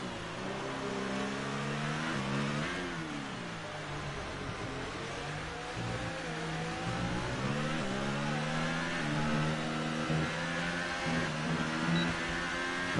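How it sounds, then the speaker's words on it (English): An F3 race car at the Spanish Grand Prix in a racing game, engine droning steadily with repeated upshifts and pitch climbs, held below full revs throughout. "It's really not revving out the car much, possibly to save some fuel."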